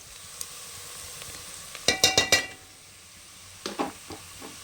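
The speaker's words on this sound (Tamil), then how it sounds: "இப்போ வெங்காயம் நல்லா வதங்கட்டும்" Onions sautéing in a pan for veg pulao keep up a soft sizzle, broken by two bursts of ringing metal clinks as the spoon strikes the pan, the first a quick run of four taps.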